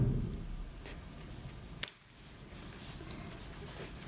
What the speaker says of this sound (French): je plie et je coupe un petit triangle